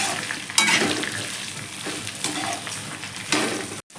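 Carrot, beans and capsicum stirred in a hot pan for sambar rice, with a spoon scraping and clacking through sizzling vegetables in a few firm strokes, close and loud and with no talking.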